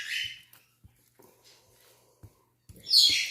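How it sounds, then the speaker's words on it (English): A pet parrot calling indoors in a kitchen, a few short bright squawks at the start and a louder shrill call at the end, separated by quiet gaps with faint knocks and clatter. "the parrot sounds like a chihuahua sometimes"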